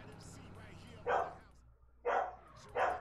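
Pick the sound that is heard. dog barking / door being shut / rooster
dog barking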